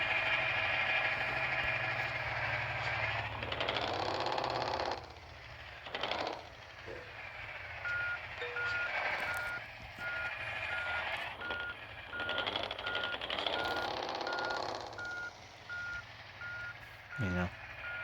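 Modded truck in a mobile truck-driving game, a steady low engine drone with repeated electronic reversing beeps ticking at an even pace, plus occasional clatter and a few brief revs.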